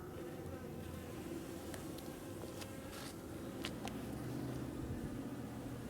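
Honeybees buzz steadily around a beehive on a sunny day, a faint continuous hum with a few brief louder passes as bees fly close, and no voices.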